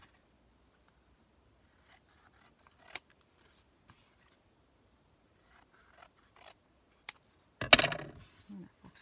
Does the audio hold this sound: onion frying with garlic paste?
no